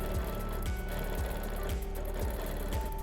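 Steady, fast mechanical stitching of a sewing machine quilting hexagons with a ruler template, a continuous close whir with regular rhythmic thumps and no talk.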